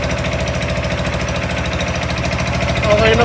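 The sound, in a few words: engine running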